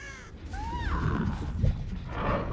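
Crows caw in the Dead by Daylight video game, a few harsh, rising calls sounding at a middle distance over a low ambient game rumble.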